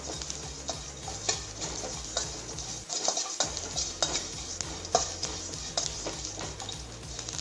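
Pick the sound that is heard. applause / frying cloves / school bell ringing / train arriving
frying cloves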